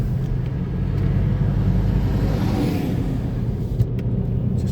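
A car drives along a coastal road past West Beach in Burnie, Tasmania, with a steady low rumble of engine and tyres heard from inside the cabin, a brief swell midway and a faint click near the end.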